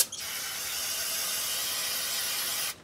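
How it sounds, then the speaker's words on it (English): Cleaner sprayed onto greasy brake tools, where brake fluid had spilled during a brake job on a 2004 GMC Sierra 1500. It makes a steady, close hiss that lasts nearly three seconds and stops abruptly, with no other sound. "Spray it down where the brake fluid was."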